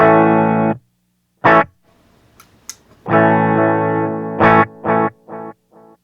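An electric guitar played through a small digital delay pedal plays sustained chords and short choppy stabs with pauses between, loud and close, sounding somewhat dull, with highs above about 10 kHz cut off.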